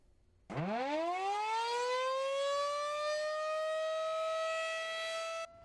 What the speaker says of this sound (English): The blare of a weather siren warning you that there's a tornado on the ground